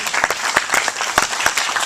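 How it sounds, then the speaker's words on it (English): Applause from a conference keynote audience honoring Department of Defense attendees, a dense, steady wash of many hands clapping close by, with a few sharper claps standing out, no voices on top. "how about a round of applause for them?"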